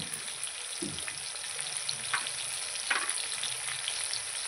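Ginger garlic paste with dried chilies and ground cumin sizzles steadily in a hot pan for chicken curry, with a constant hiss and a few soft stirring scrapes.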